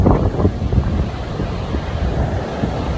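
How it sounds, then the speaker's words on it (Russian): A heavy storm pounds the southern Crimean coast, with big waves rolling in and gale-force wind roaring loudly across the microphone in a continuous, rumbling wash. "Очень большие накаты. То есть очень большие волны накатом."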